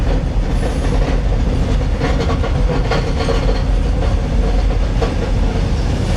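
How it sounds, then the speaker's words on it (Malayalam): A train rumbles steadily along the tracks over a high bridge with rhythmic clacking and occasional metallic squeals, heard loud and continuous from on board a Konkan Railway RORO train. "ഒരു 3-4 നില പൊക്കത്തിന് മുകളിൽ കൂടെ ട്രെയിനിൽ പോവുകയാണ് നമ്മൾ"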